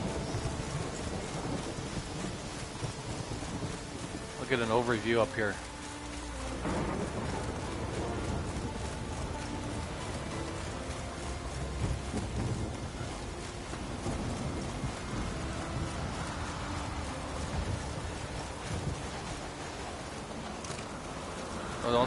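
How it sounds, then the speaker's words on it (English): Stormy night in The Witcher III with steady rain and rolling thunder throughout, a brief louder crack early on, while someone talks over it. "Thunderstorm."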